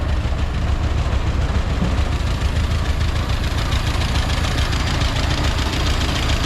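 A 1940s Willys Jeep CJ2a engine idles steadily after being restarted following years of sitting, a loud, continuous low rumble with an even knocking pulse throughout.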